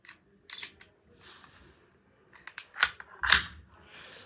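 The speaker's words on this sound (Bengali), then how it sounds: "সো এখানে আমরা এই কার্টুনের ভিতরেই ফায়ার করব।" Ceramic BBs from an M92 Beretta airsoft pistol strike a cardboard carton in a handful of sharp, snappy clicks and thuds spread unevenly across the moment, fairly close and crisp.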